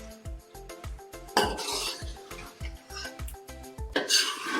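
Aloo shimla mirch chicken dished out of a pot, with a steady run of clinking metal spoon taps against the cookware and brief scraping bursts, close and fairly loud.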